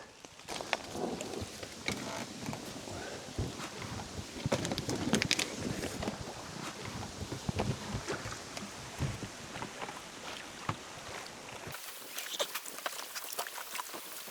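Oars splash and knock as a small boat moves through reed-lined water near a forest, with irregular wooden clunks and rustling outdoors, birds faintly in the distance.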